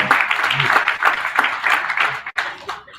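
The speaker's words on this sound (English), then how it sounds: "Just a quick round of applause" An audience gives a quick round of applause, a brief burst of mixed clapping with murmuring voices that dips suddenly partway through and then tapers off.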